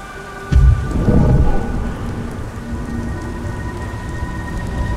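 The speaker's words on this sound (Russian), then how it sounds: "О, чертов дождь. Он когда-нибудь перестанет идти?" A steady downpour of rain in the video game Beyond: Two Souls, with a loud, close thunder rumble rolling in near the start, then fading back under the constant hiss of rainfall.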